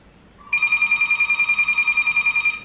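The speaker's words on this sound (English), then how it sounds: "The phone's ringing." A phone rings close by with a steady, rapidly trembling electronic trill that holds for about two seconds in a quiet room.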